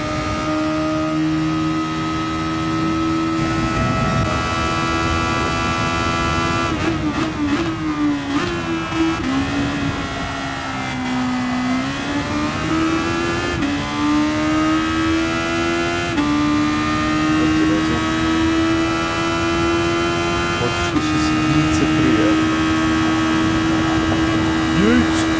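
Turbocharged inline-four race car engines in the racing game GT Sport roar loudly and continuously, rising and falling in pitch through gear changes, with a person talking over the engines.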